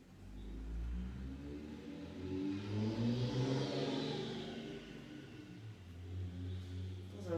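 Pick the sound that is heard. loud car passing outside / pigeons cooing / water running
loud car passing outside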